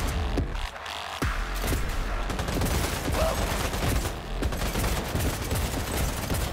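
Legendary pistol fire in Cyberpunk 2077, rapid loud shots cracking continuously through a dense, chaotic firefight.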